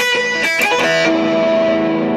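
Loud, distorted electric guitar with open strings left ringing unmuted, a few picked notes followed by sustained humming overtones.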